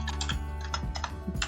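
Rapid typing on a computer keyboard while writing Django code, a steady run of close, dense key clicks continuing without pause over a constant low hum.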